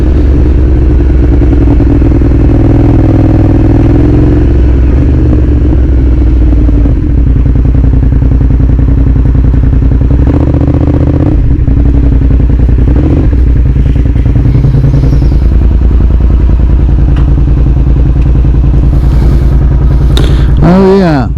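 Suzuki SV motorcycle engine idling and revving loudly and steadily up close, with a few short exhaust pops and clattering near the end.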